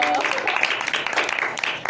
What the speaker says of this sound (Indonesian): Tepuk tangan untuk kita semua dong.